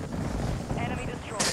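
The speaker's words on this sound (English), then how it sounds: "Friendly precision airstrike inbound." Precision airstrike explosions hit in Call of Duty Warzone 2 as a short, rumbling barrage of heavy blasts. A sharper, brighter burst lands right at the end.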